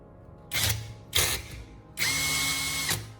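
An electric drill spins a bolt clamped in its chuck to drive a knife-sharpening drum, in two short whirring bursts followed by a longer steady run, close and fairly loud.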